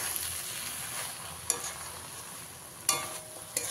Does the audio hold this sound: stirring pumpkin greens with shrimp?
yes